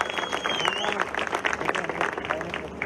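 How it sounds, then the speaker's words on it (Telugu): A crowd at a motivational meeting breaks into applause, steady dense clapping close by, with voices and crowd noise mixed in throughout. "వాళ్ళందరికీ కూడా దయచేసి గట్టిగా చప్పట్లు కొట్టండి మిత్రులారా."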